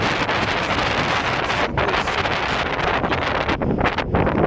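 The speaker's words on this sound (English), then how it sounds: "Wind's blowing at about 30 miles an hour up here. It's kind of whipping hard." Strong wind at about 30 miles an hour whips across the summit of Mauna Kea, roaring loudly and continuously as it buffets the microphone with gusty surges and no talk.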